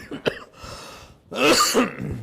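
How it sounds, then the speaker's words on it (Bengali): A short throat-clearing cough, a brief pause, then a longer, rougher cough up close. "আপনার তো প্রচুর কাশি হচ্ছে"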